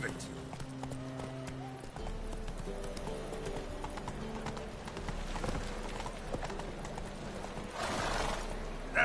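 Roach the horse gallops in a video game, its hooves clip-clopping in a steady, close rhythm for the whole stretch under a voice and other game sounds.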